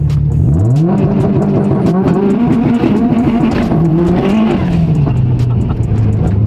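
A 2021 Honda Civic Type R, rebuilt after being totaled, revs hard and accelerates through the gears, its engine note climbing, dropping at a shift and climbing again, loud and close from start to finish.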